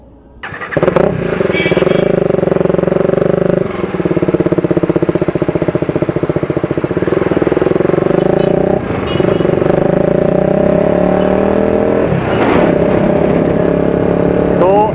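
A TVS Apache RR 310 motorcycle ridden in monsoon rain, its engine a loud, close, continuous drone that rises and falls with throttle and gear changes over about fifteen seconds.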